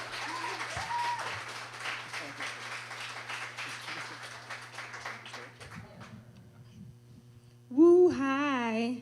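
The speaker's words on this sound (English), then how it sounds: "Don't stop clapping as you get to the stage." Audience applause and clapping at a Black artists' showcase, a dense crowd clatter that gradually thins and fades, followed by a brief pause and then a voice speaking up at the end.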